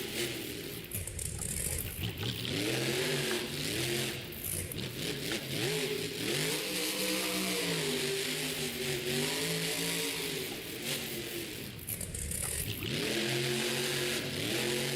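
A Monster Jam monster truck roars through its run at the World Finals, the engine revving up and down continuously and loudly, with scraping noises and arena ambience around it.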